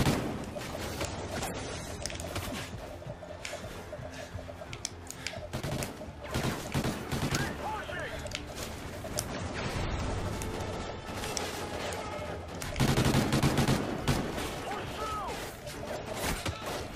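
Rifle gunfire in the Call of Duty Ghosts campaign mission Federation Day, dense bursts and impacts rolling through a busy battle mix, with crashes and mechanical clatter throughout and a heavier surge near the end.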